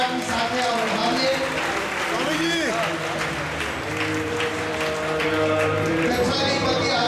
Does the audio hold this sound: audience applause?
yes